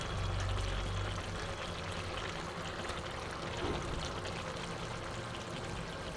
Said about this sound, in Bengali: মাছ থেকে যে জুসটা বেরিয়েছিল সেটাও দিয়ে দিলাম